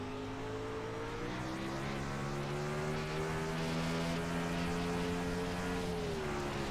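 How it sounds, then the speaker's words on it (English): A Sportsman 360 sprint car screams around Williams Grove Speedway during warm-ups. One high-revving engine wails fairly distantly and steadily, its pitch dipping and climbing through the corners, with no voices. "Listen to that motor sing right there."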